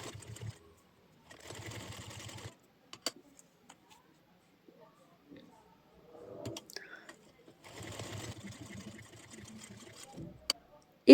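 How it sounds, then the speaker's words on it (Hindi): A sewing machine stitching a blouse strip runs in two bursts of rapid, even needle chatter. Between them come quiet gaps with small clicks and fabric handling. "और इस पे हम सिलाई लगाएंगे। हमें बराबर में सिलाई लगाने हैं।"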